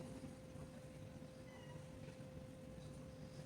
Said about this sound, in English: The cat's crying because the boy went to the bathroom to take a shower